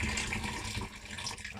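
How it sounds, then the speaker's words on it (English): Water from a 1.7-litre kettle pours steadily into a homebrew lager fermenting vessel, a continuous close splashing gush that tapers slightly toward the end, with no talking. "the rest of the kettle of water going in with it"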